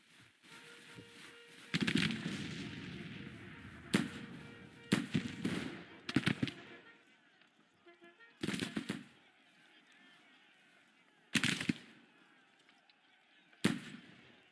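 Sharp gunfire volleys in the Grand Tactician Civil War video game, about eight loud separate bursts at irregular intervals over a quiet battlefield murmur.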